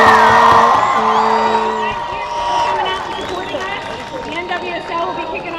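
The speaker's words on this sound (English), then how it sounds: "just a word about another great crowd here in Florida, cheering you guys on to a victory" A large stadium crowd at a women's soccer match in Florida, whooping and cheering loudly at first and then fading to a steady roar, heard under a voice.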